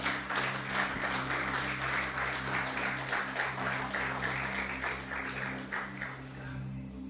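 A church congregation applauds, a dense, steady wash of many hands clapping together for several seconds, with a low sustained hum underneath that fades slightly toward the end.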